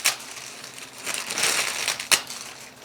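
Sheets of packing paper are crumpled by hand close up, giving a few seconds of crinkling and crushing with a sharp crackle near the end. No one talks.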